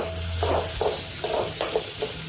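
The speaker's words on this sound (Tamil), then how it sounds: "வெங்காயம் நல்லா பொன்னிறமாக வறுக்கணும்." Onions fry golden in a pan for brinjal chutney, with a steady low sizzle broken by several short, scraping bursts of stirring close by.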